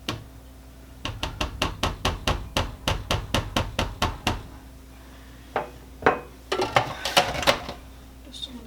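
A graham cracker crust for Hello Dolly bars gets pressed into a pan with a quick, even series of about a dozen sharp taps, then a pause and a few more scattered, irregular knocks, close up.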